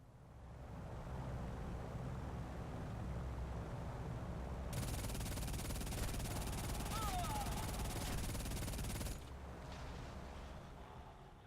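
Rapid machine gun fire tears into a TB-3 bomber in the War Thunder combat flight game, a dense, loud burst of gunfire lasting several seconds over steady aircraft engine drone.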